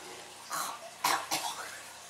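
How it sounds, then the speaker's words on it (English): A few quiet coughs in quick succession, small and throaty, with a soft low background hum. "Coughed up a thing."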